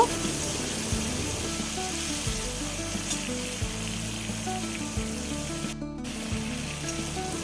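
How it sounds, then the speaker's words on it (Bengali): Prawns fry lightly in hot oil with a soft, continuous sizzle and a few faint scraping taps. A sharp clatter comes near the end, and no one speaks. "চিংড়ি মাছটা একটু হালকা করেই ভেজে নেব"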